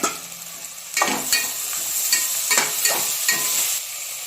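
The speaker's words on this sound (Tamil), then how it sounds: "அந்த தக்காளியை சேர்த்துக்குவோம்." Chopped tomatoes tipped into brinjal and onion frying in a pan, a close sizzle broken by a series of sharp scraping stirs about every half second, each flaring loudly before settling.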